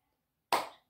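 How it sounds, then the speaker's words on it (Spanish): A single sharp hand clap, close and crisp, stands alone in an otherwise silent moment during a children's music game of hand-clapping activities. "Todo el mundo, palmas ya."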